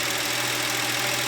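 A Porsche 911 G-Model 3.2 Carrera engine idles steadily with a low, even hum, close by and with no talk over it.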